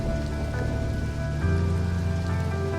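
Heavy rain pours steadily as an audio drama effect, a dense continuous patter on surfaces with low hum beneath, no voices over it.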